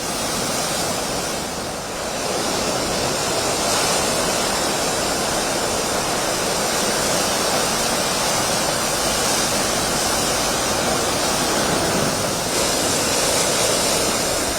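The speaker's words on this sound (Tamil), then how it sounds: "புதுச்சேரியில் கடல் சீற்றத்துடன் காணப்படுவதோடு 3 அடிக்கு மேல் அலைகள் எழும்புகின்றன." Rough sea at Puducherry, with surf over three feet high crashing continuously in a loud, dense roar of breaking waves and no voices.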